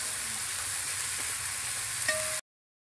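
Onions sautéing in a pan make a dense, steady close-up sizzle with a faint stirring scrape near the end, then cutting off abruptly into silence.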